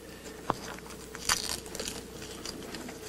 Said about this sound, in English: Nice crunchy gator skin.